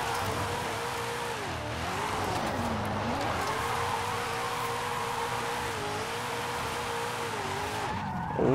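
Tires squealing in long, wavering howls as a Brian's Eclipse drifts in Forza Horizon 5, over a steady engine drone, continuous and close with no speech.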